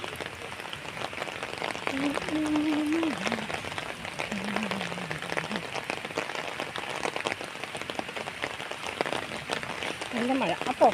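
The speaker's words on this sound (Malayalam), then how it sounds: "നല്ല മഴ." Heavy rain pours down steadily and fairly loudly throughout, a dense continuous hiss of drops on surfaces, with a few brief voices and tonal calls faintly over it.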